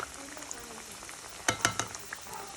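Fresh banana cue frying in hot oil, a soft continuous sizzle with a few sharper crackling pops bursting near the middle, close and fairly quiet.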